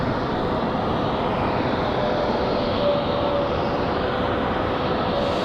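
Airliner arriving at Raleigh-Durham International Airport, its engine roar steady and loud, holding a continuous drone with a faint tonal whine throughout.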